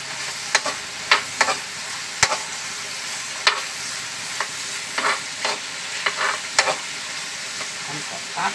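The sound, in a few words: garlic frying and being stirred in a pan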